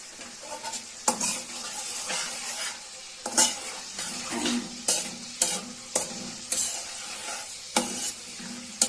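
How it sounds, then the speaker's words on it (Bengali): Whole garam masala spices frying in oil for a beef bhuna, a steady sizzle broken by repeated sharp clanks and scrapes as a spoon stirs the pot. "নেড়ে চেড়ে ভেজে নিচ্ছি। আর তেলের মধ্যে এই মশলা, গরম মশলাগুলো বাজলে কি সেন্ট ভালো হয়"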